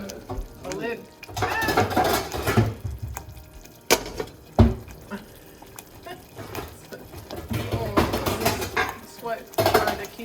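A lid is set onto a cooking pot on a home kitchen stove with a sharp metallic clank amid other clattering of pans and utensils, while a person talks.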